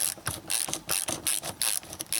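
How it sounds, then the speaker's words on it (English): A ratchet wrench backing out a 10 millimeter bolt on a 1990–93 Honda Accord during windshield washer reservoir replacement, rapid clicking bursts in a quick irregular rhythm, close and alone. "Okay, I'm pulling the last bolt out."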